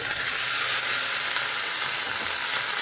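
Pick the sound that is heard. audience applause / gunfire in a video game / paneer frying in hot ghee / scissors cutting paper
paneer frying in hot ghee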